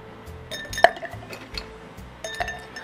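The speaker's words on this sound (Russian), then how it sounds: "Далее наполняю бокал льдом." Ice cubes clink into a cocktail glass in a few sharp, bright knocks, one louder than the rest, close and otherwise quiet.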